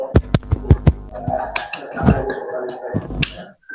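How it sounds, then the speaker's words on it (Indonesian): Classroom hand clapping after a correct answer in a statistics lesson: a few sharp separate claps at the start, then a denser burst of mixed clapping and chatter, fairly close. "Kita beri tepuk tangan dulu."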